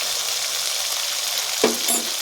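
Kashmiri chili powder frying in a pan for a katla fish curry with pointed gourd and potato, giving a steady close sizzle with a brief stirring scrape near the end.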